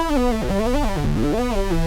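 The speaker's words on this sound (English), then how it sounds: "I'm gonna go ahead and add this Fly on a Stick sound from Pigments as well." A Fly on a Stick lead synth patch from Arturia Pigments plays a gliding, buzzy melodic line with rich harmonics, sliding pitch up and down steadily and alone for about two seconds in a dark ambient beat.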